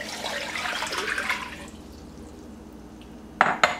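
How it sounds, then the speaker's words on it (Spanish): Water poured into a small cooking pot in a kitchen, a steady splashing flow that fades out, then a couple of short sharp clinks near the end. "ya tengo aquí lista mi ollita y pues voy a empezar a agregar agua"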